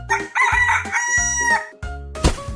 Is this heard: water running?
no